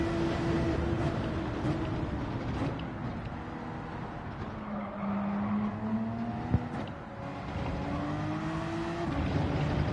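Car engines race in the PS5 game Gran Turismo 7: a loud, continuous engine roar with pitch rising and falling through gear changes, plus a brief sharp knock partway through, with no talk.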